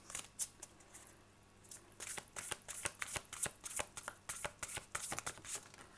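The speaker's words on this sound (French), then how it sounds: "ça va être vraiment de brasser les cartes" Tarot cards being shuffled by hand, a rapid series of close, crisp riffling flicks and slaps, sparse at first and then dense and rhythmic.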